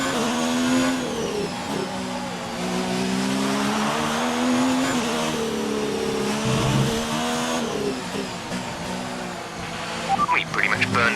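Formula 1 car engine in an F1 video game at the Monaco Grand Prix, a steady high-pitched whine rising and falling through gear changes, loud and continuous with tire noise near the end.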